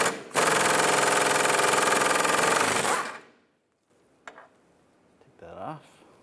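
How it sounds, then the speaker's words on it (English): A 16mm socket, with an 18mm wrench holding the stud, removes the sway bar link nut on a 2004-2010 BMW X3 rear suspension. A loud, rapid buzzing run lasts nearly three seconds, followed by quiet clinks and handling sounds. "Now we're going to remove the nut from the sway bar link. We're going to use a 16mm socket, 18mm wrench to prevent the stud from spinning."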